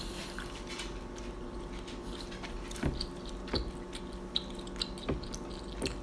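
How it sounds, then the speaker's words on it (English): Spicy vegan Korean rice cakes, tteokbokki, are chewed up close in soft, wet, squishy bites with occasional sharper clicks, faint against a quiet background. "You hear how chewy those are?"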